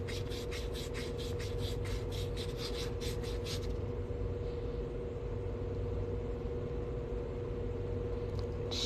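Sandpaper worked by hand over a coin ring makes quick rhythmic rubbing strokes for a few seconds, then eases into a quieter steady scratching over a constant background hum.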